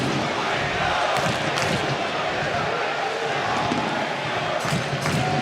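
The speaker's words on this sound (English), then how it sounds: "Midweek crowd on hand here at Dignity Health Sports Park." Midweek stadium crowd at Dignity Health Sports Park during an LA Galaxy versus San Jose Earthquakes soccer match, a steady distant roar of murmur and ambience running throughout, with broadcast commentary over it.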